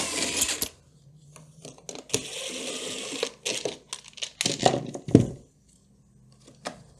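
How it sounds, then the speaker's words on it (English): The air cleaner cover comes off a Stihl backpack blower with close plastic clicks, rattles and scraping handling noises in short irregular bursts, separated by quiet gaps. "Let's get our air cleaner cover off."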